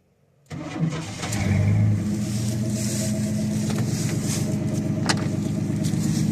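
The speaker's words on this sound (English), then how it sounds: "Crank it back up so I run the jack." An electric car jack kit motor runs steadily while lifting a car for a roadside tire change, a continuous buzzing whine that starts abruptly and holds an even, fairly loud hum with faint clicks.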